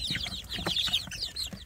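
Young free-range village chickens in a crowded rearing box, a dense flock of overlapping chirps and soft clucks, close and continuous with no talk.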